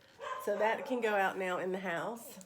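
A small dog barks and whines at its reflection in a glass door indoors, a rising, yelping run of tonal barks and whimpers, fairly close, while someone talks at the same time.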